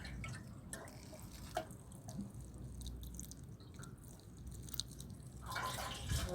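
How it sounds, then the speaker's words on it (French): Water drains from freshly sown seed pots, giving soft, close drips and trickles over a steady low background rush, with a slightly louder wet patch near the end, no talking. "J'attends que l'eau s'évacue."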